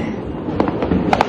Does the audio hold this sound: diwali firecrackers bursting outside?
yes